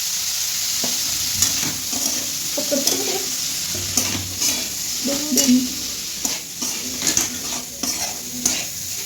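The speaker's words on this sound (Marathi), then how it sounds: "मिक्स करून घ्यायचं आणि शेंगदाण्याचं कूट टाकू आपण थोडंसं त्याच्यामध्ये" Broad bean pods with crushed peanuts are stirred in a pan, a spoon scraping and clinking in irregular bursts over a steady low sizzle, close and fairly loud, no voices.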